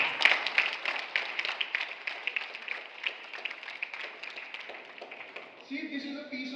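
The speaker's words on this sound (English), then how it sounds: "A huge round of applause for all of you, first of all." An indoor audience claps for performing schoolchildren at an Independence Day event, with steady, dense applause that ends after about five and a half seconds. A different, brighter sound follows.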